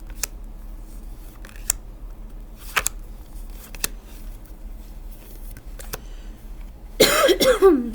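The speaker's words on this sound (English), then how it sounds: "Excuse me, that was a weird cough." A dry cough from a person speaking alone, coming as a sudden loud burst near the end after a stretch of quiet broken by small clicks and handling taps.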